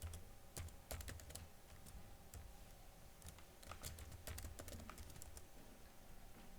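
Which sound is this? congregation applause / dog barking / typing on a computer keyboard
typing on a computer keyboard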